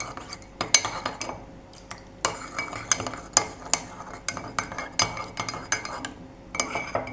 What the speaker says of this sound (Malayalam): ഇത് നമുക്ക് കട്ടയില്ലാതെ ഒന്ന് ഇളക്കിയെടുക്കണം